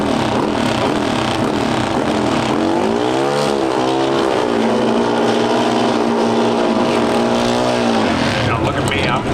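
A Pro Stock drag racing motorcycle engine at the NHRA Route 66 Nationals in Chicago screams loudly and continuously, its pitch rising and falling, while a commentator talks over the roar.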